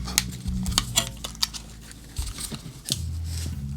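Unwrapping the packaging of a JBL Boombox part gives a run of sharp crinkles, snaps and rustles, close and moderately loud, in irregular bursts across a few seconds with no talking.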